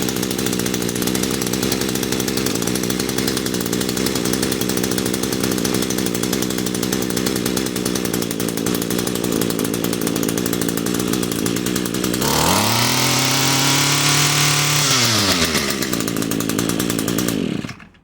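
Two-stroke engine of an Echo PAS-225 trimmer running steadily with a new carburetor, loud and close, its buzzing drone dropping in pitch near the end as the idle is turned down before it cuts off.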